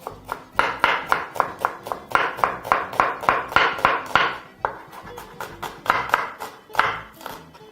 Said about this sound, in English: we're going to start off by chopping some onions.